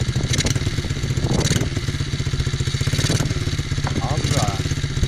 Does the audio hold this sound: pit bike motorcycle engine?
yes